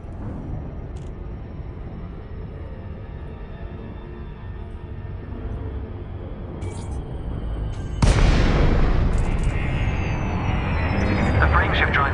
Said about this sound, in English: The frameshift drive is disengaged.